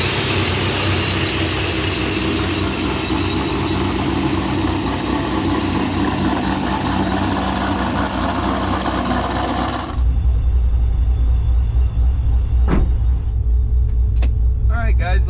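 A Procharged Pontiac GTO engine idles while warming up, a steady loud rumble that shifts into a deeper, heavier drone partway through, with brief sharp clicks near the end.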